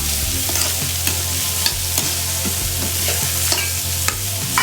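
Curry leaves sizzle in hot oil in a pan for beetroot chutney, a steady crackling fry broken by repeated scraping stirs, close and fairly loud with no voices.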